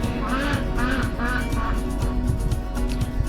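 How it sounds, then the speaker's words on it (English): Several ducks quack loudly and repeatedly up close in a farmyard, harsh bursts coming in quick clusters against steady outdoor background noise. "The ducks are yelling at me."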